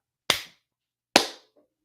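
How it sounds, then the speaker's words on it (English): Two single hand claps, crisp and close, spaced a little under a second apart with silence around them. "I'm gonna leave a clap."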